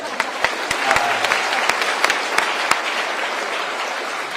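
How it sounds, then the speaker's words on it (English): High school audience applauding a student at a question session with the governor, steady dense clapping with a few sharp individual claps standing out, continuous throughout. "Yes, she deserves a round of applause."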